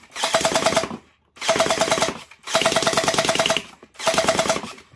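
An MP17 gel blaster pistol fires in four rapid full-auto bursts, each about a second long with short pauses between, loud and close with a buzzing mechanical rattle.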